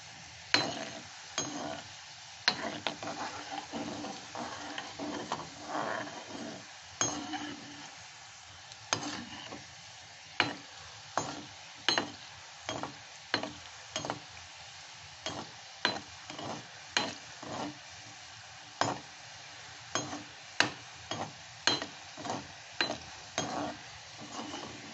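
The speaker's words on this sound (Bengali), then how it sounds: "এটা একটু লালচে করে ভাজতে হবে, খেজুরের মতো, খেজুর মিষ্টিগুলো যে হয়" Khejur-style sweets frying in oil until reddish, a constant soft bubbling sizzle punctuated by regular clinks and scrapes of a utensil against the pan, close and steady with no talking.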